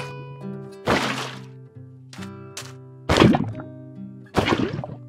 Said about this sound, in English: Filling and emptying buckets with lava or water has changed.